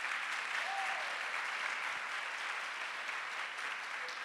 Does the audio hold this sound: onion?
no